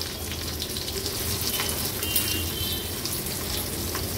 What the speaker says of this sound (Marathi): फोडणी आपली थोडी तडतडली